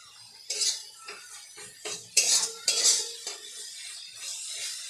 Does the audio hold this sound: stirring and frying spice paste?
yes